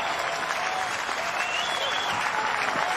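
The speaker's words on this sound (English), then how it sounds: "Liner up the middle, and that's the first base hit of the day for Army. 5 1/3 no-hit innings for Micah Dallas, and the crowd recognizes that immediately." Baseball crowd at an NCAA tournament game between Army and Texas Tech applauds a first base hit, sustained dense clapping from a large stadium audience, with faint voices in the mix.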